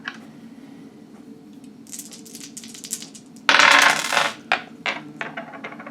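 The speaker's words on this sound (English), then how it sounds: "And there goes the dice." Dice tumble and clatter against a hard surface: a sharp burst of rattling, then a few scattered bouncing clicks that settle, heard close over a quiet background hum.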